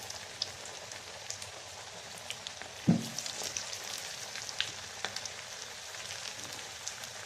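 Small portions of onion vada batter mixed with rice flour fry in hot oil, giving a continuous close crackle and bubbling with scattered pops and a soft thump partway through.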